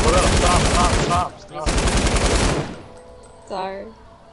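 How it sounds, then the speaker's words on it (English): Rapid machine-gun bursts in a Fortnite match, loud and close, with two long volleys separated by a short pause, followed by a voice speaking after the firing stops. "I told you not to shoot at me!"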